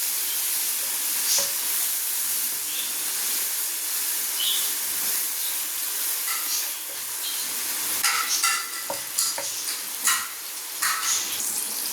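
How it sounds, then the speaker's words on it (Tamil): Chopped tomatoes sprinkled with salt sizzle in a hot pan while a chicken fry masala is cooked. A steady, bright hiss continues throughout, with occasional sharp crackles and stirring scrapes, and no voices are heard. "இப்போ வந்து தக்காளி ஆட் பண்ணிக்கிறோம்"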